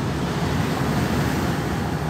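Inside a truck cab on the BR-101 highway near Guarapari, Espírito Santo, wind roars through an open window over the rumbling cab noise, a dense steady rush with no breaks.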